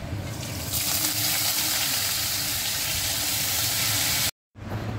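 Mustard seeds, cumin, ginger and curry leaves fry in hot oil for dahi vada, making a steady, close sizzling hiss that swells early, holds, and breaks off for a brief moment near the end.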